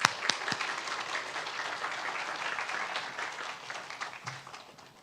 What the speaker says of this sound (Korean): 우리 박수로 환영하고 말씀 나누겠습니다